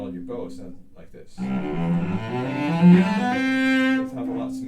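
A bowed string instrument plays a smooth, sustained stroke led by the bow. Its tone swells and holds steadily for several seconds, following a brief spoken moment at the start.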